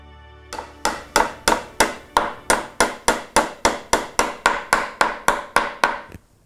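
Hammer tapping tacks into a wooden frame, about sixteen sharp evenly spaced strikes in a steady rhythm, close and loud with no talking.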